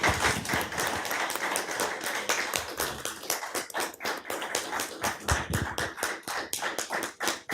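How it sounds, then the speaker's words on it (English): City council session crowd applauding to commend long-serving staff, brisk and close with distinct individual claps, starting dense then thinning into scattered uneven hand claps toward the end. "I'd say a round of applause from everyone as well"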